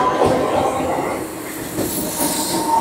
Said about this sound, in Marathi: हार्बर लाईनवरून मुंबई छत्रपती शिवाजी महाराज टर्मिनसला जाणारी 12 डब्यांची हिमी लोकल आहे